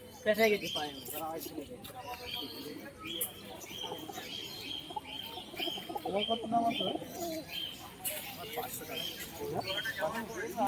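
Pigeons coo and flutter amid a busy crowd at a pigeon market in Birnagar on a rainy day, their soft calls repeating over steady chatter and background bustle.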